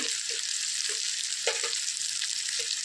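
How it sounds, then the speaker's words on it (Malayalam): Garlic and shallots sauté in a pan, giving a steady close sizzle broken by a few soft scraping stirs. "വെളുത്തുള്ളിയും ചൂരലിയൊക്കെ ഒരു നന്നായിട്ട് വഴന്ന് വരാൻ തുടങ്ങിയിട്ടുണ്ട്"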